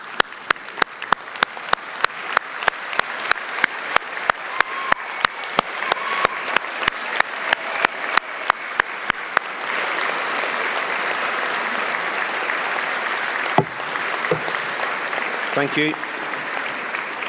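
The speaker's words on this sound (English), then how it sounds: "I need you to give them a huge round of applause" A graduation audience at a city college winter ceremony claps with rhythmic, sharp beats that swell into continuous dense applause, and a voice briefly speaks near the end.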